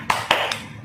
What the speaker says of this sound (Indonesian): Yuk sekarang kita ulangi tepuk semangat dulu ya.